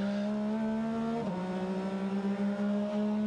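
A Porsche race car with a 4.2 litre flat six engine, racing at the Rolex 24 at Daytona, holds a loud, steady high-revving note, dips briefly as it shifts, then climbs again.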